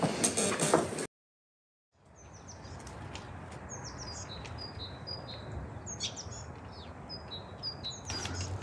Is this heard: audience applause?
no